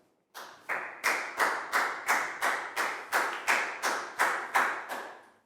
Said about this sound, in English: Big round of applause for Nadia, please, guys.